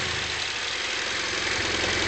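A BMW F650GS motorcycle on its stock exhaust, idling with a steady low thrum and even mechanical rumble, close and continuous with no voices.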